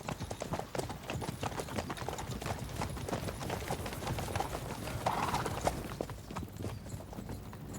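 Horse hooves in the medieval video game Kingdom Come Deliverance 2, a busy stream of overlapping clip-clops from several mounts walking on hard ground, steady and fairly close, with no clear talk.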